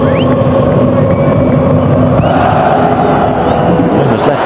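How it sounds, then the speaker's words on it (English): West German football fans roar wildly after a goal at the 1990 World Cup, a loud, dense, continuous stadium crowd. "West German fans sent wild."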